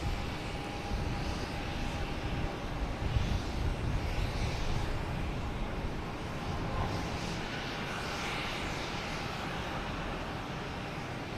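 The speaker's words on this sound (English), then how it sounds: "There's an American heading Dallas-Fort Worth." An American Airlines Boeing 737 MAX 8 departs Boston Logan for Dallas-Fort Worth, a steady, dense jet roar that stays constant and fairly distant across the span.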